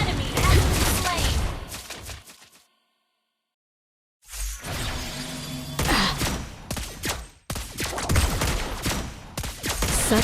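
Rapid bursts of gunfire in the mobile game Mobile Legends, loud and close, broken by a brief silent gap and mixed with in-game voice callouts.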